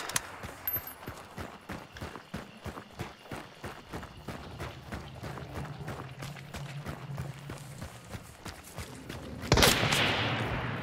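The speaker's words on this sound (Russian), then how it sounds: "Это по мне был выстрел." A single loud gunshot bursts out near the end of a match in the video game Hunt: Showdown, following rapid running footsteps, and its echo lingers afterward.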